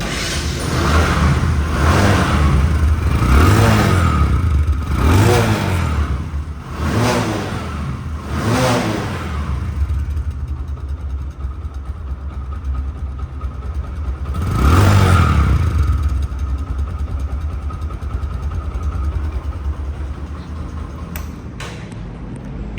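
Second-hand Bajaj Discover 100cc motorcycle engine running nearby, revved repeatedly in rising and falling swells over a steady idle, with one more rev later on.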